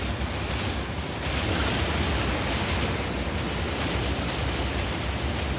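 A dragon breathes fire in Elden Ring Shadow of the Erdtree, in the Dragon's Pit: a loud, continuous roaring rush of flame and noise that runs unbroken for several seconds.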